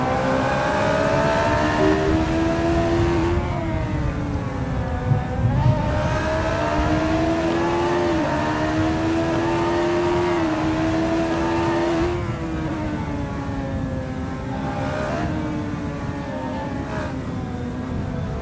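Onboard race car at South Dakota Circuit in a sim racing game, a loud high engine whine that holds steady, dips on lifts and braking, then climbs again through gear changes, close and continuous, with no talking.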